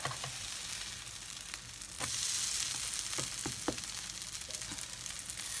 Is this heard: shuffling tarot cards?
no